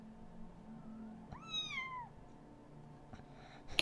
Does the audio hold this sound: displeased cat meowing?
yes